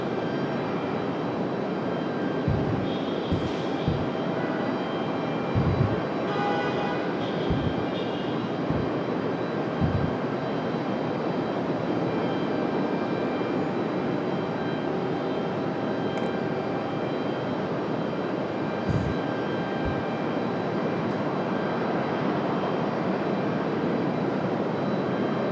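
An aircraft takes off from runway 23 left at Raleigh-Durham International, its engines a sustained broad roar heard from a distance, steady throughout with occasional thumps and small sounds nearby.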